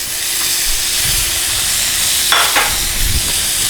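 Beef tossed into a pan of cooked-down masala fries with a loud, steady sizzle and hiss, broken by a couple of brief scraping stirs.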